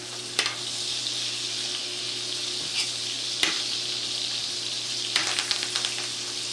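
Steak sizzles in butter in a hot pan with a constant loud hiss. A few sharp clinks and scrapes of a utensil stand out over it, and nobody speaks.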